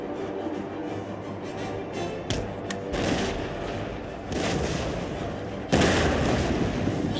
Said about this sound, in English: So we're just ripping him up with cannon shot right down the middle.